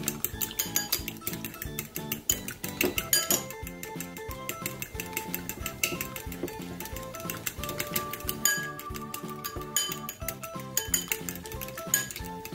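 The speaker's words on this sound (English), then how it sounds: "I'm gonna beat up this egg really well" An egg being beaten in a bowl, rapid steady clinking of a utensil against the bowl over several seconds, close and clear with no talking.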